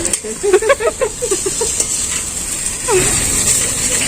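Sliced onions sauté for a quail pepper fry, a steady loud sizzle over the pan. A voice runs over it early on, and a stirring scrape follows.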